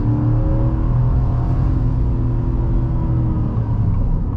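A 2026 Ford F-150 Lobo pickup truck engine pulls hard while accelerating to overtake another truck on the road, a loud, sustained low rumble and rising drone heard from inside the cab, with no talk.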